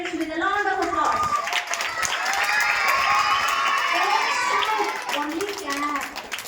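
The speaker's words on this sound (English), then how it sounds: "Now let's we all welcome our parents with a round of applause." Parents in a crowded school hall applaud and cheer during an annual prize distribution, a steady wash of clapping and shouts running throughout with children's voices mixed in.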